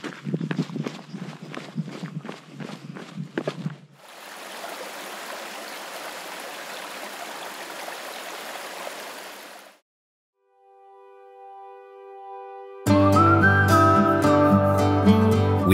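A mountain creek in the Rockies rushes steadily for several seconds during a trail descent. Quick footsteps come before it, and a brief tone and music follow.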